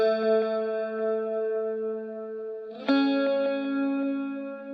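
Sustained guitar chords ring out in a loop with heavy reverb and delay, a brighter re-strum near the three-second mark adding a wash of echoing tails; no voice.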